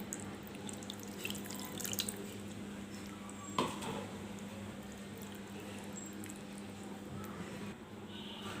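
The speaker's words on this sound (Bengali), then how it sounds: "আমি এখানে একটু হাতটা ধুয়ে নিচ্ছি সামান্য পরিমাণ পানি দিয়ে" Faint running water from a tap with light splashing as hands are rinsed with a little water, low and steady with a few soft drips and knocks.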